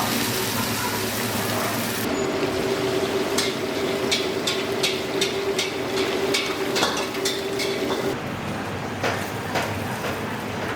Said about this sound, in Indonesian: Lalu kita goreng dengan minyak bersuhu tinggi ya